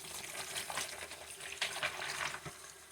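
Small doll clothes are swished and rubbed in a basin of water, producing soft irregular splashes and wet rustling, close and fairly quiet, with no talking.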